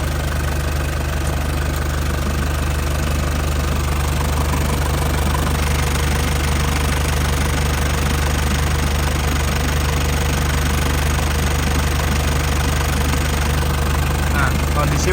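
A warm 1999 Isuzu Panther engine idles with a steady, dense, rhythmic knocking rumble, close and constant, under a voice speaking.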